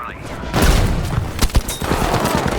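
Dense World War II gunfire and explosions in Battlefield V, with loud close rifle and machine-gun bursts and heavy booms layered over one another, while a voice speaks under the din.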